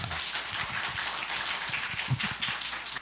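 Church congregation applauding to welcome a visiting pastor at an anniversary revival service, a steady wash of clapping filling the whole stretch with no speech over it.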